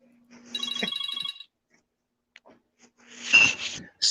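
A Smurf-style phone ringtone chirps in a short, high, twittering burst, then a second louder burst follows after a pause, close and clear with no talk over it.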